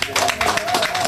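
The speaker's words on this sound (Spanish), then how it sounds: "Dame un aplauso para acá." Brief burst of clapping from an event crowd thanking a team, with talk and a sustained tone running underneath.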